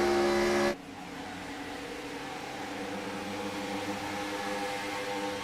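A race car rolls into the pits in the iRacing Rolling Thunder series at Las Vegas, a loud burst of engine cutting off sharply, then a steady droning motor and track hum carrying on.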